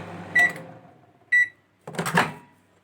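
A microwave oven heating a papad gives two sharp electronic beeps, then a door clunk and rattle, loud and close, with no talking.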